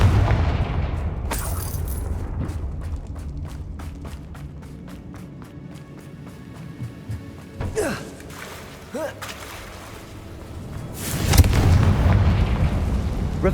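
In Hogwarts Legacy, the Confringo spell goes off in a couple of sharp explosive bursts amid game effects, with one abrupt boom early and a bigger blast later.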